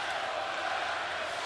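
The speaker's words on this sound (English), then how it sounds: "A raucous sellout crowd once again on hand here" A sellout basketball arena crowd roars during an NBA playoff game between the Cleveland Cavaliers and Toronto Raptors. The wash of noise is steady, dense and distant, with no distinct voices.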